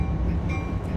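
Steady low rumble and rolling clatter of a passing train in Train Simulator 2014, on the Acela Express route between Trenton and New York, loud and continuous with no voices.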